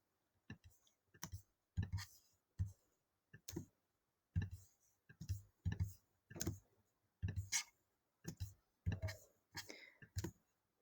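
A computer mouse clicks repeatedly while working in Photoshop, making close, crisp single and double clicks in an irregular rhythm with short pauses between them.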